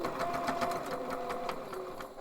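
A sewing machine runs steadily, topstitching along elastic on a homemade fabric face mask, its needle rattle loud and close with no talking over it.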